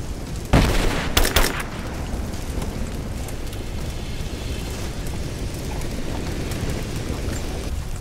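A grenade goes off in the Rise of the Tomb Raider video game, one sharp loud blast followed by a second burst of crackling impacts, then a steady rumble like rain or debris noise that continues without speech.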